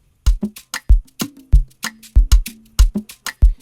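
A punchy Afrobeat drum loop made in FL Studio with stereo widening, deep kicks, crisp snares and quick percussive hits in a syncopated groove, loud and close, with no voices.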